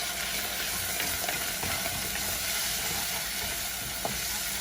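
Tomato puree with dry mixed spices sizzling steadily in a pan of oil for East African fried rice, a continuous hiss with faint stirring clicks, no talking.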